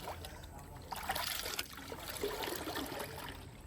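Neem oil is stirred into soapy water in a container, producing a quiet, steady trickling and sloshing of liquid with no voices.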